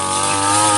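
Motorized grass cutter slicing through weeds in a chayote garden, a steady, loud engine whine with a high buzzing tone held throughout, close by and alone.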